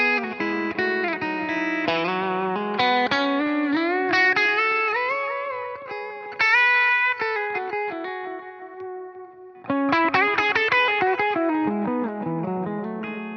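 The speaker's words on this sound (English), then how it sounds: "we're going to really get a nice single coil sound out of this AT-1" Electric guitar with a coil-tapped DiMarzio AT-1 pickup gives a bright, thin single-coil tone, playing a melodic riff with chords and sustained notes, loud and up close, no talking.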